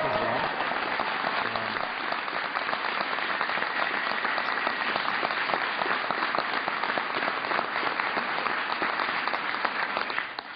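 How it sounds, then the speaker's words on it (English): Sustained applause from an audience during a House session, a dense, even roar of many hands clapping throughout, fairly loud and uninterrupted. "please give Tolu another round of applause."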